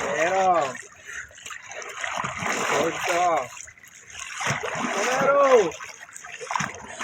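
Water splashes and sloshes as a man repeatedly dunks himself in cold water on a winter night, in uneven bursts of churning splatter, with voices talking and counting nearby.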